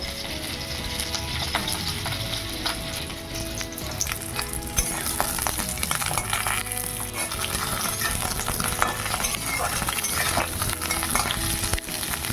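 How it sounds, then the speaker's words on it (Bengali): Steady, loud sizzling of cauliflower frying in a hot wok, with crackling oil and occasional scraping stirs throughout; no voices. "কড়াইতে ফুলকপি ভাজা হচ্ছে"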